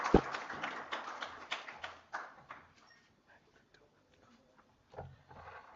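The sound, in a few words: applause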